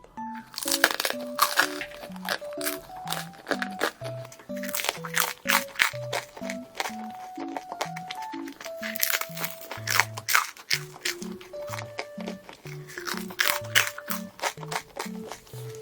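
Crispy bread is bitten and chewed up close, with repeated sharp crunches in an irregular rhythm, while a voice hums or speaks softly underneath.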